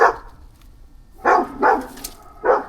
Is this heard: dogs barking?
yes